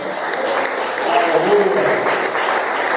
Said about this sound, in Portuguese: Então você pode aplaudir ao Senhor